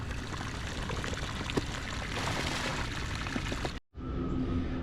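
Water from a hose pours steadily into a boat's water tank, a close, continuous rushing gush that stops abruptly near the end, leaving a faint hum behind.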